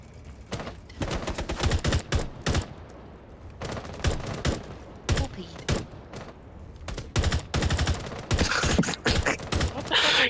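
Several players in Rainbow Six Siege fire at a window, producing repeated loud bursts of gunfire in irregular clusters, with short gaps between volleys and a harsher, crackling burst near the end.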